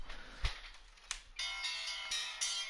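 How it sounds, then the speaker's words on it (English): A phone ringtone from an incoming call, faint bright electronic tones that start softly and grow into a sustained, shimmering ring with a few brief clicks or thumps before it. "Get a phone call."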